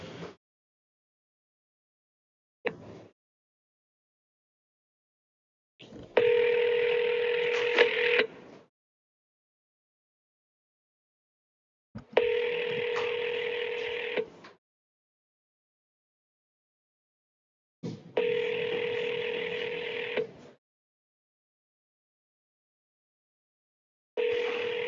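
An outgoing phone call sounds through a handset, with a few short dialing blips followed by repeated ringback tones, each about two seconds long and spaced by silent gaps, heard clearly and alone.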